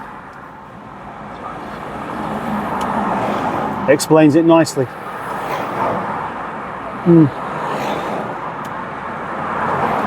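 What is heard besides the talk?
road traffic noise in a queue of cars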